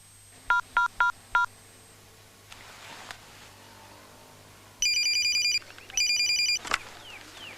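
A telephone rings in two loud electronic bursts, preceded by a quick series of keypad dialing beeps and a quiet stretch with a low steady hum underneath.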